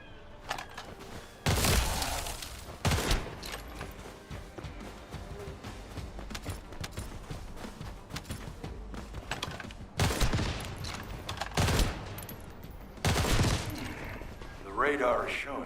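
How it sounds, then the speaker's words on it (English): Explosives go off in The First Descendant, several loud booming blasts arriving in bursts separated by quieter rumbling stretches, close and forceful, with some voice beneath. "Just set off a few explosives."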